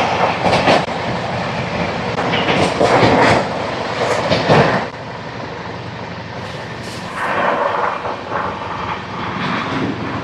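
The 12839 Chennai Mail passenger train from Howrah to Chennai Central runs on the rails, a loud, close, steady rumble broken by repeated surges of clattering wheel noise, with no talk.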